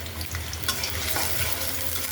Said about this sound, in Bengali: তো তেলের উপরে ভাজা ভাজা হোক।